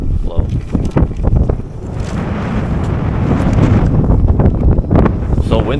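Strong wind roars and buffets the microphone outdoors at a campsite in the KOFA Wildlife Refuge, a steady low rumble that swells throughout, with people talking over it.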